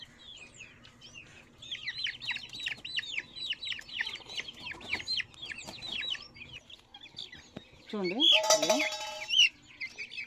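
Young Bhimavaram country chicken chicks of a local breed peep in rapid, high repeated chirps, close by and steady, before a louder squawk near the end while someone speaks briefly.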